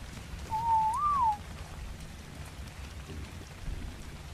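Steady rainfall in the foggy world of ARK: Survival Evolved, a soft continuous hiss throughout, with a brief gliding whistle-like tone near the start and no talk.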